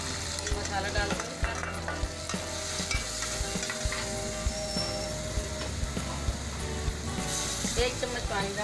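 A thick spice paste with ginger-garlic paste sizzles and crackles in a hot pan for nahari while a spoon scrapes and stirs steadily, a voice talking faintly beneath.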